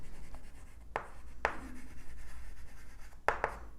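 A pen or marker writes on a board or paper for a bank reconciliation lesson, giving a few short, separate scratchy strokes with quiet pauses between them and no talking.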